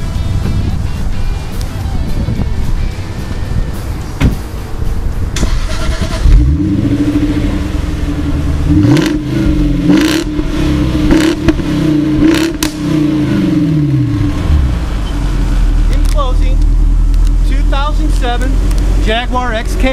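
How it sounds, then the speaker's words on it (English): A 2007 Jaguar XKR Coupe engine idles, then revs repeatedly in several rising and falling blips close by, before settling back to a low rumble. "let's get to the fun part and see how this guy really sounds"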